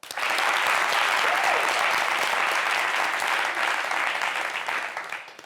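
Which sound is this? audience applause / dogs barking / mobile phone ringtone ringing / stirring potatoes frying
audience applause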